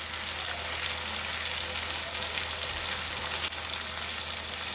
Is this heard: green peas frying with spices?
yes